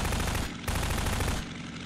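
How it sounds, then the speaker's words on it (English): Rapid automatic gunfire from airship-mounted weapons in Garry's Mod, a dense continuous burst of loud shots with a brief dip partway through, harsh and close with no voices. "We will just stand here and shoot at them."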